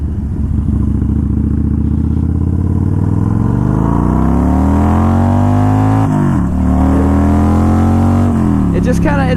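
A Yamaha 950 motorcycle pulls away in first gear, its loud close engine note rising steadily in pitch, then dipping briefly as the throttle eases before climbing again, with a faint rattle throughout.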